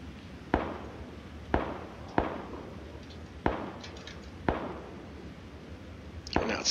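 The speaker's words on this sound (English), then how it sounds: "Some shots right southeast of me." Gunshots in a video game ring out at a distance, five or six sharp separate cracks spaced about a second apart, each with a short fading tail over low background noise.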